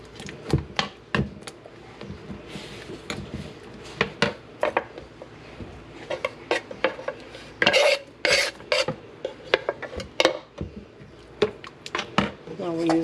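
Green salsa ingredients being stirred together in a bowl: a close run of scraping, rubbing and clinking spoon strokes, uneven in rhythm and fairly loud.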